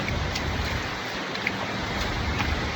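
Heavy rain pours down in Abu Dhabi, a loud, dense, continuous hiss with no breaks and no voices.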